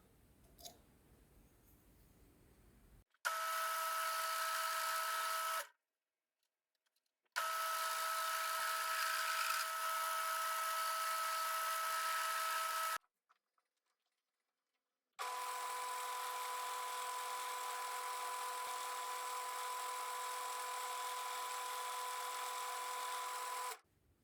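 A metal lathe runs while shaving a metal chess piece, a steady high whine in three long stretches broken by short silences, close and even throughout.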